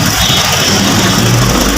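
A Hyundai Kona engine with double overhead cams runs at a steady idle during an oil flush, a close, loud mechanical hum with faint shop noise and no talking.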